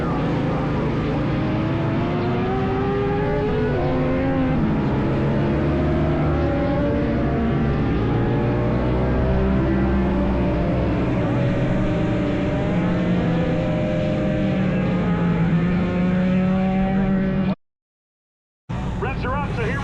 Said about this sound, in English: Revs are up, so here we go, and away we go to turn number 1.